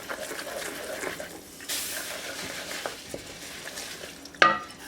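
Oil is added to a roasted mixture in a pan while making rewari sweets, with steady scraping and stirring and a soft sizzle, and a sharper clatter near the end; no voices are heard.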